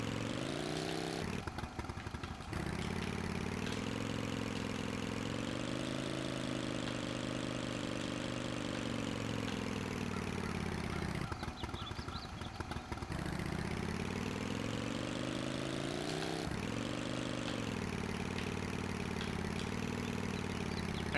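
A vehicle engine drones steadily while driving in Tomb Raider Remastered, a buzzing motor whose pitch rises and falls with throttle, with two brief rougher rattling stretches.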